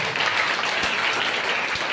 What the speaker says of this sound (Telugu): చప్పట్లు కొట్టు గట్టిగా.